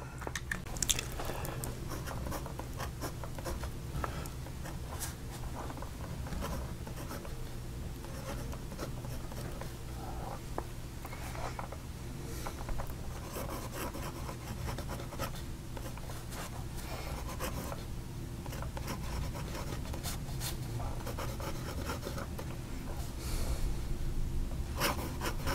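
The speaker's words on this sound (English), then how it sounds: "I think you can hear that this nib isn't quite as smooth as the medium." A fountain pen nib scratches across paper while writing, a slightly rough nib producing a quiet, continuous papery scratching with small strokes and taps throughout, faint and close, with no talking.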